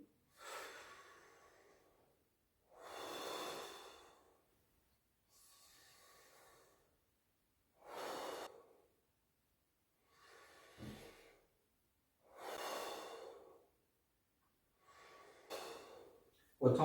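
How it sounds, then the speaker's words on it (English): A man breathing deeply in and out through pursed lips, as if through an imaginary straw, in long slow breaths with airy hissing exhales repeating about every two seconds and brief silent pauses, close and clear with no talk. "he is breathing through a straw, an imaginary straw that he's making up to create a conduit for breath to come in and out of the belly deeply"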